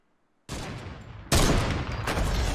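Fortnite gunfire in a video game: a sudden loud burst of rapid shots starts after a brief quiet, then a second, louder barrage follows and continues to the end, with no talking.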